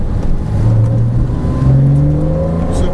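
A Porsche Cayman S accelerates hard on a race track, its engine note climbing steadily in pitch through the gears, loud and continuous from inside the car.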